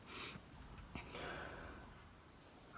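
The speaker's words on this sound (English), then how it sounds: "I'm sorry I keep sniffling. I have a stuffy and runny nose." Short, quiet sniffles from someone with a stuffy, runny nose while doing eye makeup, a couple of brief breathy snorts over a soft, steady background.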